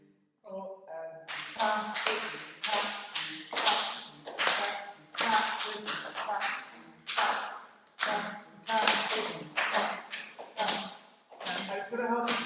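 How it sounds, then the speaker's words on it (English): Rhythmic hand clapping in a percussion workshop, a group clapping sharp, loud patterns in repeated phrases with short pauses between bursts, close and prominent. "So, we'll go back to this clap."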